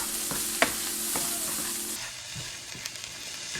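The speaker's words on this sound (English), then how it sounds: "Saute the garlic." Garlic sautés in a pan with a soft, steady sizzle, interrupted by a few light clinks and scrapes of a utensil stirring, close and continuous.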